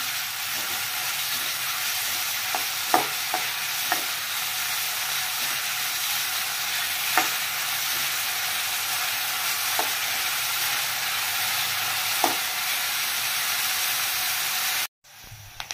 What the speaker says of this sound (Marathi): छान लाल होईपर्यंत हे कांदे भाजून घेऊ आपण।